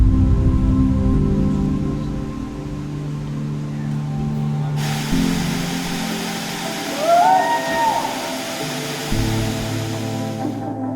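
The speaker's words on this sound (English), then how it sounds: "a hike in Hawaii wouldn't be complete without a waterfall" A waterfall on a hike in Hawaii, a steady broadband rush of falling water holding loud throughout, with a brief high tone and some low thumps partway through.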